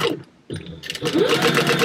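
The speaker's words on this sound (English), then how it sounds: "1/8 of an inch away from the edge I'm just going to back stitch to make sure she's staying in place" Sewing machine back stitching through fabric 1/8 inch from the edge of a cat-themed wallet panel, a short whirring burst after a brief pause, close and fairly loud.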